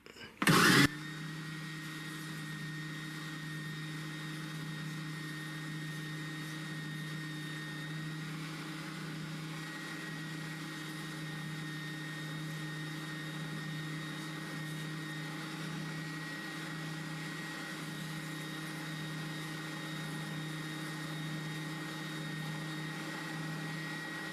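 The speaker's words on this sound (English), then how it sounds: "I have an oscillating spindle sander. I use this a lot for deburring and stuff" An oscillating spindle sander deburring the jagged edge of a metal pocket clip: a steady motor hum with a tonal whine that keeps going unchanged, preceded by a brief loud scrape as the metal first meets the drum.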